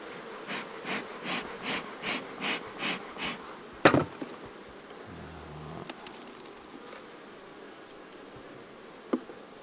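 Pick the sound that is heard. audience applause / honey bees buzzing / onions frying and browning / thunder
honey bees buzzing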